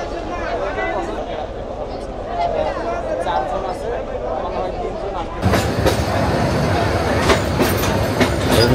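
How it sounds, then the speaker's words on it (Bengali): Local commuter train at Tongi station, a loud rumbling pass with rhythmic wheel clatter that grows harsher and nearer partway through, with a voice speaking over it. "এই দেখেন একটা ট্রেন, এটা হচ্ছে লোকাল কমিউটার ট্রেন"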